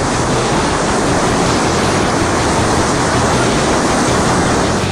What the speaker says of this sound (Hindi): नदी में लहरों के प्रचंड प्रहार को देखकर ऐसा मालूम पड़ रहा है जैसे समंदर में हाई टाइड आया